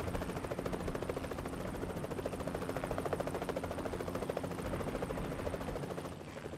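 Helicopter in the Crisis on the Planet of the Apes VR game, a steady, loud rotor thrum with rapid rhythmic chopping pulses that holds constant throughout, then eases slightly at the end; no talking.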